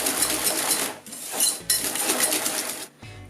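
Set coffee bavarois cream is stirred in a bowl to loosen it, giving rapid, rhythmic scraping and clinking of a utensil against the bowl in bursts with brief pauses, close up and without speech.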